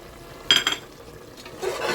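Brief scrapes of a spoon stirring chopped tomatoes and Kashmiri red chilli in a cooking pot, two quick strokes and then a softer sizzle, close and quiet with no talk.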